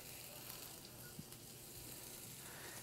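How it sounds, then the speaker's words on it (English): Steady broadband sizzling hiss of food cooking in olive oil on a hot pan at a summer barbecue, with a few faint pops throughout. "Start getting a nice sizzle."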